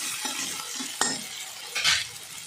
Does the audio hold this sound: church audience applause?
no